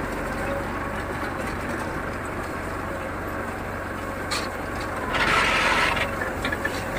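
A Swami scaleless hay baler, a grass-bale machine, runs with a steady, dense mechanical clatter of gears and ratcheting parts throughout, growing briefly louder and harsher near the end.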